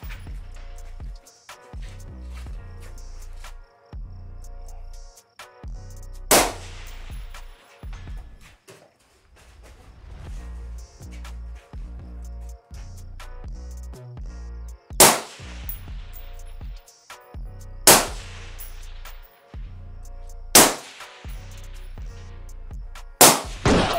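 Ridgeline Defense RD-15 LPR rifle, 16-inch barrel, fired on an outdoor range: several sharp, loud gunshots spaced apart, each with a quick ringing tail over steady background hum, with brief voices between shots.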